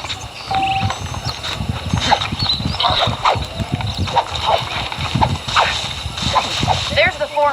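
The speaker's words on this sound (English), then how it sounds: "The horses are saddled up over here." Horses' hooves clip-clop at a steady walking pace in Red Dead Redemption, close and rhythmic beneath a voice talking throughout.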